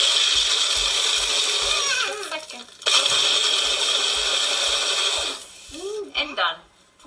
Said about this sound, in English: I like to give it a little bit of a shake and blend it.